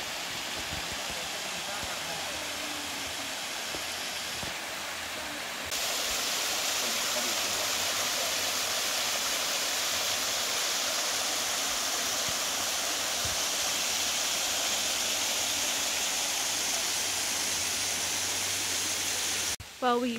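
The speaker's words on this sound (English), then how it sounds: "Well, we made it to the falls." Waterfall near Gatineau, Quebec, a steady broadband roar of falling water that grows louder partway through and continues without pause, with no talking over it.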